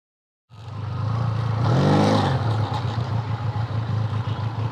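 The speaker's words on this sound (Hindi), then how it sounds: "पैरेलल ट्विन में आउटस्टैंडिंग साउंड है भाई।" Benelli Leoncino 500 motorcycle with a 500 cc inline twin engine starting up and revving once before settling into a steady, throbbing idle, loud and close with no talk.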